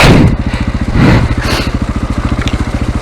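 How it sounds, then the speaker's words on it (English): Trail motorcycle engine braking after a downshift on a slippery track, a loud close throbbing exhaust pulse with rapid regular firing beats and a few thumps from the bike. "I'm trailing the front brake here now, and then down another gear, so the engine is also holding me back."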